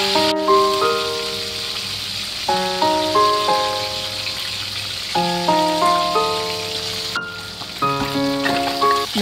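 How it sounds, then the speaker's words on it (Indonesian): Constant crackling sizzle of river fish frying in hot oil, fairly loud, with light music playing over it throughout. "bila kita menggoreng dengan minyak yang panas"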